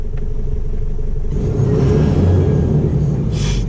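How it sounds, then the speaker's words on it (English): A steady low DAF truck engine rumble, revving after a wiring fault repair, swelling slightly midway, heavy and continuous, with a faint hiss near the end. "Picking up revs a lot faster now"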